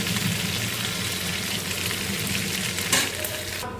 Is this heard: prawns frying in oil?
yes